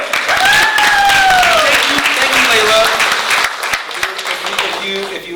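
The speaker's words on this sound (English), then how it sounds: "round of applause" Audience at a police precinct community meeting giving a round of applause, loud and close, fading over a few seconds while someone speaks over the clapping.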